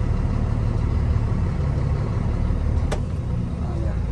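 A truck engine idles in a steady low rumble on a farm field, with a brief sharp click partway through.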